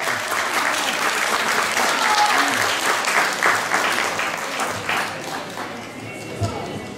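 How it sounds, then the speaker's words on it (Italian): Sustained audience applause at an Italian dialect poetry award event in Lagonegro, dense clapping throughout that tapers slightly toward the end, with some voices mixed in. "Allora, un applauso lo vogliamo fare?"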